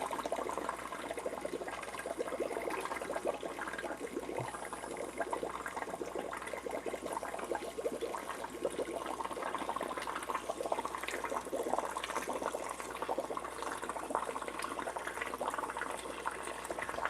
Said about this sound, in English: we're going to get a good 12 gallons of water change here.